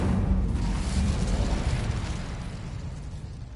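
A fiery spell bursts out in Hogwarts Legacy, a deep booming whoosh that swells loud at once and then slowly fades away, with no voices over it.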